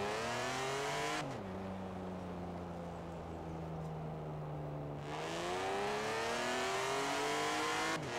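A 2011 BMW Z4 sDrive35is engine in Forza Horizon 4 revs through the gears, a loud sustained drone that drops at an upshift and climbs steadily again as the car accelerates.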